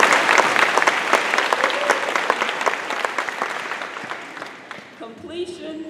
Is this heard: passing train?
no